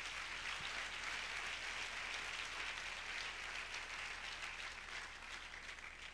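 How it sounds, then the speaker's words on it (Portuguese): A church congregation applauds during a sermon, a soft, distant, continuous patter of many hands that holds steady for several seconds. "Pode aplaudir o Senhor"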